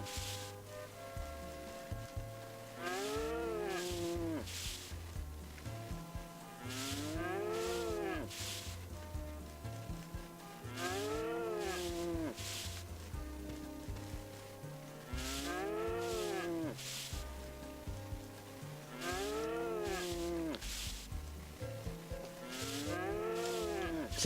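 Cows in the Harvest Moon: Magical Melody video game moo over and over in a repeating pattern, each long, sliding moo clear and close above quiet game background, roughly every few seconds.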